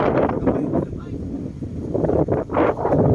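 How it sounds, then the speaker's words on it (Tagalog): Gusty wind blows hard across the microphone on an island by the sea in a steady roar with surging swells, close and loud, no other sounds standing out. "Hangin. Hangin guys."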